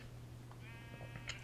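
Sheep bleating in a pen inside a video game, a short harmonic bleat rising over a steady low hum and game background, with a few faint extra sounds near the end.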